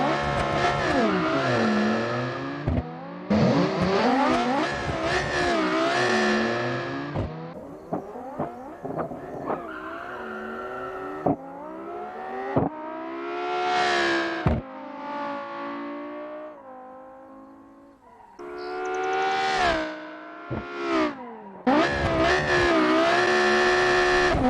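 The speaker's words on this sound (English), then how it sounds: "you'll see it builds the RPMs, and then I guess it just dumps the clutch" A 2,000HP four-wheel-drive drag car with locked diffs and fat tires revs and launches in a driving game, engine screaming through repeated high-rpm pulls and shifts, broken by brief quiet gaps between runs.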